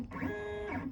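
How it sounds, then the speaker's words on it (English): A CNC machine moves along an axis under jog control, giving a steady stepper-motor whine that rises in pitch, holds, then falls as it slows, close and continuous for about a second with no voices. "now let's go to the CNC machine and see how it works"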